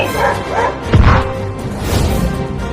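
Cartoon dog barking near a fallen policeman under a tree, a few sharp yelps and barks over busy music and sound effects, with a thump in the middle.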